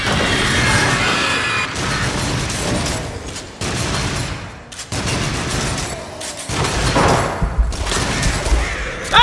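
Guns firing in the Until Dawn: Rush of Blood video game, loud dense blasts and crashing impacts in rapid bursts separated by brief pauses, with no talk.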